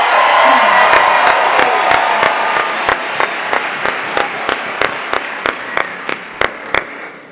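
Loud applause and crowd noise at the 2022 43North finals competition in Buffalo as a competitor is welcomed. A full wash of clapping fades into distinct, regularly spaced single claps that continue steadily.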